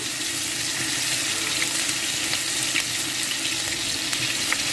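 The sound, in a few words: ginger garlic frying in a pan for fish pickle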